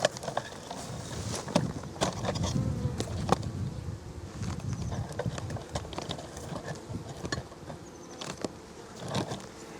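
Bees buzz steadily around a heavy beehive box during an August split, a dense, close swarm drone with occasional sharper passes of individual insects near the microphone.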